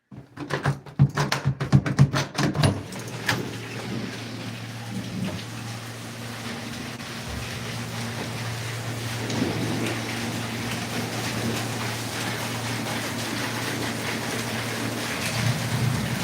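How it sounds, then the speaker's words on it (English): Heavy rain pours down outdoors in a steady, even wash that holds for the whole stretch, with a low constant hum beneath it and a few brief knocks and bumps early on. "It's raining hardcore."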